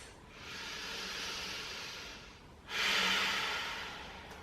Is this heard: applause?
no